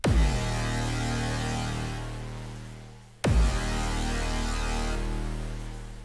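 A hardstyle synth lead and sub bassline made in FL Studio play with a kick drum, two punchy hits each followed by a long, loud sustained tone with heavy low end.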